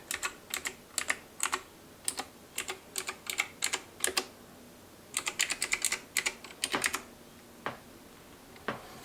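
Keys on a SteelSeries Apex 5 keyboard pressed one after another in quick irregular bursts, crisp and close, with short pauses between clusters and no talking.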